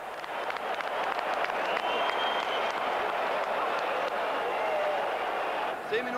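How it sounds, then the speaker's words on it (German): Stadium crowd at a 1991 Hansa Rostock Bundesliga football match cheers and applauds after a goal, a dense, steady roar of clapping and voices that fills the whole stretch at moderate distance. "Jubel bei den Herren aus Rostock auf der Ehrentribüne."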